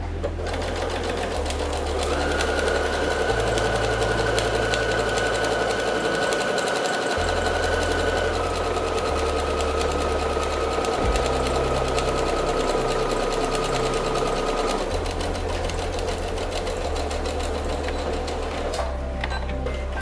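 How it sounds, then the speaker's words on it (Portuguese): Sewing machine running steadily to stitch a seam around a fabric bowl cozy, a continuous close mechanical whir with shifting low motor tones and a brief pause partway through, no voices. "vamos fazer a costura em toda a volta"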